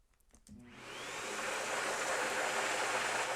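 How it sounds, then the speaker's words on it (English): A vacuum cleaner starts up after a few clicks, its motor rising into a loud, steady, broadband roar and whine that holds close and constant to the end, with no speech. "Let's give it another test here, what I'm calling the vacuum cleaner or the Hoover test."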